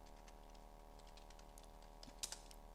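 A book title being typed on a computer keyboard during copy cataloguing, a faint run of quick key taps over a steady electrical hum, ending with a couple of slightly louder clicks.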